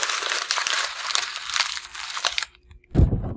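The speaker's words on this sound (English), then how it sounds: "all you have to do to get started is to just crumple it up" A sheet of paper being crumpled up by hand for an art lesson, a steady close crinkling and crunching for over two seconds, then a brief pause and a final louder squeeze.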